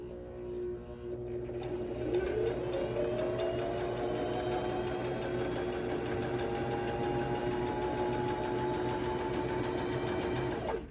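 A Brother ST531HD sewing machine starts up and stitches fabric in a fast, even mechanical whir that runs for about nine seconds. It stops abruptly at the end, with no voices.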